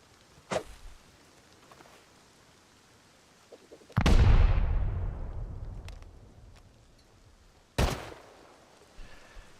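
A loud C4 blast in the video game Rust at about four seconds, with a booming low rumble that fades over a few seconds, plus two sharper isolated bangs before and after.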